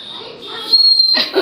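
A shrill whistle sounds at a family home bustling with wedding guests, a steady high tone held for about a second amid background household noise.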